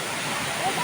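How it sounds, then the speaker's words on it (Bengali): A tall waterfall at Rishop, Darjeeling, West Bengal, swollen in the rainy season, makes a loud, dense, steady rushing roar of falling water throughout a brief moment. "ফলসটা অনেক উঁচু থেকে নামছে এখানে"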